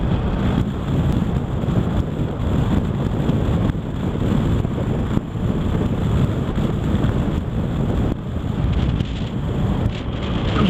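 A BMW R1200RS sport touring motorcycle is ridden at speed, with steady, heavy wind roar buffeting the microphone throughout and no talking.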